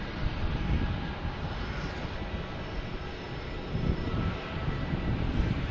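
A Lufthansa airliner sits at the end of an airport runway, its engines giving a broad, steady roar with a low rumbling undertone that swells slightly toward the end, distant and continuous with no speech.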